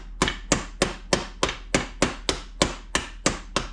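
A part being tapped into bare two-stroke engine cases: about fourteen sharp, evenly spaced metallic knocks in a steady rhythm, close and clear with no talk.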